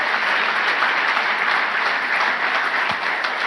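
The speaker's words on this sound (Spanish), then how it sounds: "Dar un aplauso, no era solo para ellos, es para todos nosotros también" Church congregation applauding at an Easter service, a steady dense wash of clapping hands filling the room, sustained at even loudness throughout with no voices over it.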